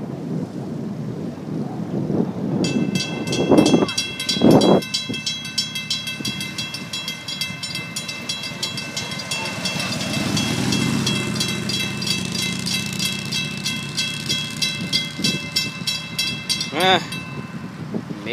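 FEC passenger train EC202 rolls past on the rails after a meet in Gifford, a steady close rumble with a sustained horn-like tonal chord for much of the pass, wind buffeting the microphone and brief talk nearby.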